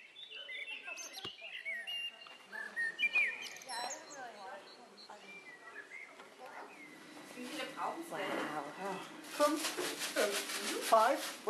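Birds chirp outdoors along a walk toward an entrance, with repeated short bright calls that grow busier toward the end, while people talk nearby.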